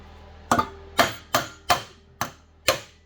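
Six sharp metallic hammer whacks on a big screwdriver against a Coleman engine flywheel at a steady pace, each hit ringing briefly before fading, loud and close with no talking.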